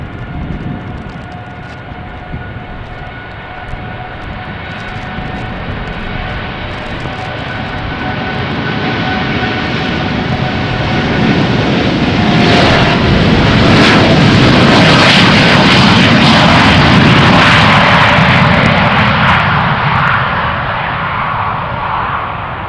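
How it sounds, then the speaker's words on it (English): An American Airlines Boeing 787-9 Dreamliner departs Amsterdam Schiphol on runway 36L in showery weather, its jet roar swelling steadily to a loud peak before slowly fading into the distance. "a Dreamliner from American 203 outbound to Philadelphia."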